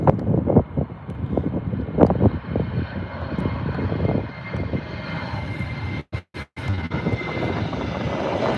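A Qatar Airways airliner passes at Birmingham airport with a loud, continuous jet engine roar and rumble, with gusts of wind buffeting the microphone and a couple of short dropouts near the end.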